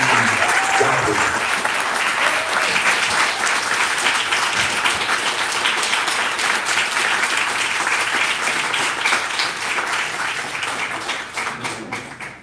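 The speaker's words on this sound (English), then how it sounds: "let us finally give another big round of applause to Professor Dorothy Roberts." Lecture attendees applaud Professor Dorothy Roberts with a big, sustained round of clapping that starts full and dense, slowly fading over the final seconds.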